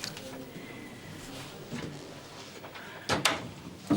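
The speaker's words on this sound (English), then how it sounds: "Close the door, please." An office door swings shut in a quiet room, with soft movement followed by a couple of sharp knocks and a final thud toward the end.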